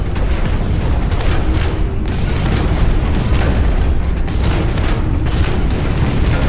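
Grenadier mech's grenade-launcher rounds bursting in Hawken, a dense run of loud, close booms and rumbling blasts rolling together with little pause.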